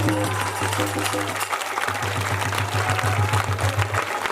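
Audience at a Bhagwat Katha religious discourse clapping steadily in a rhythmic beat, mixed with a droning harmonium-like tone and background chatter throughout.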